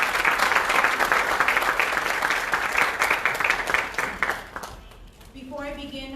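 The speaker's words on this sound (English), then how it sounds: "Let's give her a round of applause." An audience at a school board swearing-in ceremony gives a round of applause, dense clapping for about four seconds that fades out, followed by a brief tonal sound.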